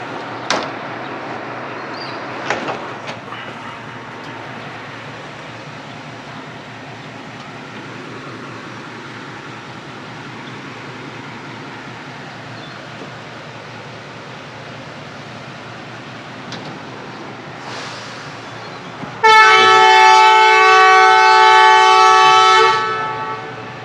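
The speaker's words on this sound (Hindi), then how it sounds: "ट्रेन यहाँ से चल पड़ी है" The Sialkot Express, 171-Up from Lahore to Sialkot, rumbles steadily during its departure, then sounds a long, loud horn blast near the end, close and alone without talk.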